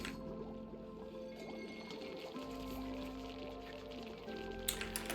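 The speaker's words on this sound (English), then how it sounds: "And that pushes all the water in." Water pouring and gurgling as it floods into a room in the game Oxygen Not Included, a steady liquid rush with bubbling tones and game sound effects, moderately quiet and without voices.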